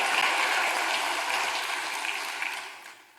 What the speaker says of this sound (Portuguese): Aplauda o Senhor mais uma vez, glória a Deus